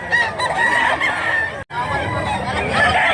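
A fighting cock being sold at a rooster market crows and clucks loudly and close, with faint crowd babble in the background.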